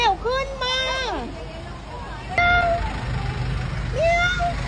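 A cat stuck under a car's hood meows loudly several times, drawn-out calls close by, with people talking in the background.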